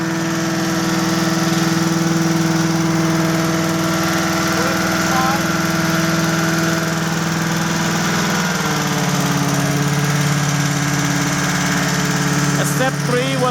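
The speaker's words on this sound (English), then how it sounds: "while the machine is running with the valve slightly open to cool off, that way you're allowing the air to go through the blower" An Amtex Prowler 13hp machine runs steadily with its valve slightly open, a loud droning engine with a constant low hum whose pitch shifts partway through. Someone talks over it.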